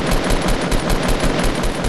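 Rapid automatic gunfire in a squad shooter video game rattles off in quick, loud repeated bursts that fill the whole moment, with no talking.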